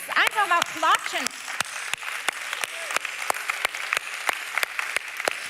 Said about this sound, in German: lasst uns einfach mal klatschen